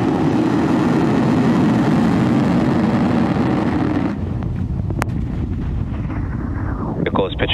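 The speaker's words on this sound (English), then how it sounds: "Liftoff of Falcon 9." Falcon 9 rocket lifting off on the COSMO-SkyMed Second Generation mission, a loud continuous roaring rumble that fills the clip, then eases and thins partway through as the vehicle climbs away.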